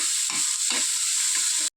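Okra frying in a pan with onion and tomato: a steady, close sizzle and hiss with a few soft stirring scrapes, ending abruptly.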